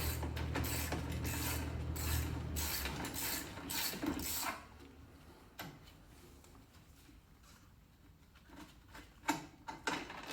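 Motorcycle bolt on a Yamaha FJR1300ES being loosened with an Allen wrench while fitting luggage guards, giving close mechanical ratcheting and creaking clicks in uneven bursts, busier at first and then sparser with a few sharp taps near the end.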